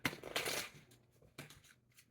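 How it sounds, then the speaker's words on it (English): Bursts of riffle shuffling with a deck of playing cards, several quick papery flutters separated by short pauses, close and fairly quiet. "All right, next shuffle here."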